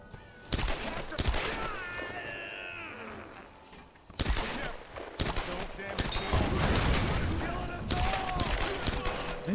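Trench shotgun blasts in Tomb Raider (2013), several loud, sharp booms spaced irregularly, mixed with in-game groans and commotion between shots.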